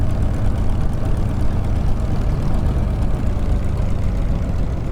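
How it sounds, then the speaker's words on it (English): A Spitfire Mk IX's piston engine in Microsoft Flight Simulator runs on after the fuel is cut, a steady loud low rumble continuing throughout with no voices. "And just wait for the engine to run down."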